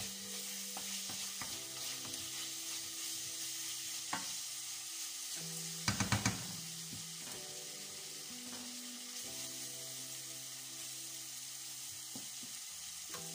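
Cabbage and beef fry in a pan with a steady hiss while being stirred, utensil scrapes and clinks sounding at intervals and a brief clatter of knocks midway.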